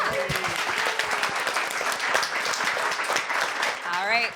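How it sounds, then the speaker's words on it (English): Clapping from the audience at a panel event rises in a dense, lively burst, with voices talking and calling out over the applause. "You can clap again."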